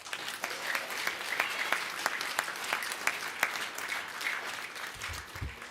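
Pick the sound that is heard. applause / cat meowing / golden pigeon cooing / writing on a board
applause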